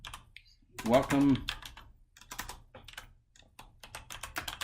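Someone types on a computer keyboard with a quick, close run of clicky keystrokes that continue through the clip, mostly in the second half. A voice speaks briefly over the typing near the start.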